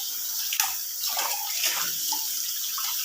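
Water running from a household tap, a steady close hiss of flow with small splashes and gurgles throughout, no voices.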